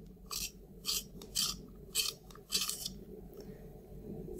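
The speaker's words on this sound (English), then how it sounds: "I personally would like to sharpen it just a bit" An eyeliner pencil being sharpened produces a handful of short, scratchy rasping twists in irregular bursts, close up and fairly quiet over a low background hum.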